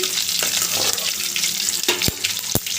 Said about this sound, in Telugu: ఇప్పుడు ఇందులో ఒక రెండు ఎండుమిర్చి ఒక నాలుగైదు వెల్లుల్లిపాయలు తీసుకోండి ఇవి కూడా బాగా వేగనివ్వండి